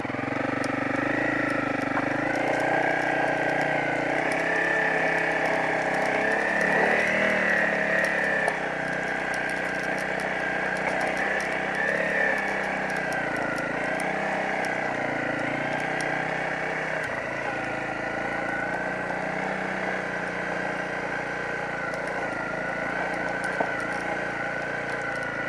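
A Honda CRF250 Rally motorcycle ridden along a rough forest road, its engine droning steadily and close for the whole stretch, rising and falling slightly with throttle, with no talk over it.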